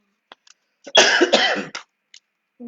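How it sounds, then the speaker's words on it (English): A burst of harsh, raspy coughing, two rough hacks close together, followed by a few faint clicks and a quiet breath. "Excuse my coughing. I'm still coughing."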